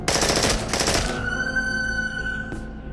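918 pistol in the video game Into the Radius fires a fast full-auto burst of about a second, sharp and loud up close, then a metallic ringing tail fades out.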